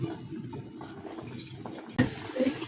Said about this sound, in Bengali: তখন আমরা এটা ভালো করে নর্মাল পানি দিয়ে ধুয়ে নেব।